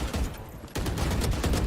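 Loud shotgun blasts in the video game Valorant, a dense burst of gunfire close up, then a brief dip and another sustained volley of shots.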